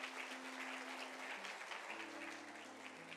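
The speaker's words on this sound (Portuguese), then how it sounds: "Uma salva de palmas para os dois," Audience applause at a church service, a steady wash of clapping from a congregation with faint low tonal sounds underneath, fairly distant and continuous throughout.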